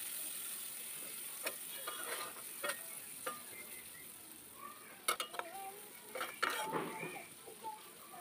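Spices frying and being stirred in hot oil left from frying fish, with a faint sizzle under intermittent spoon scrapes and clinks against the pan, close by.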